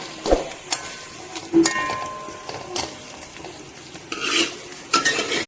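Curry leaves go into frying chicken 65 in a pan: intermittent spoon stirs and metal clinks against the pot over a soft, low sizzle, close by with no talk.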